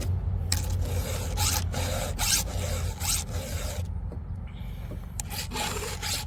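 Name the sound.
sharpening a chainsaw chain with a file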